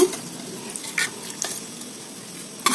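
Curry sizzling and frying in a pan while a spoon stirs it, with a steady close hiss and a few louder scraping stirs.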